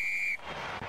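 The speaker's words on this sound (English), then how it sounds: "Frederico Anselmi blows the whistle" A referee's whistle ends a rugby test match between Brazil and the Māori All Blacks: one steady, piercing blast lasting about a third of a second, then the broad wash of stadium crowd noise.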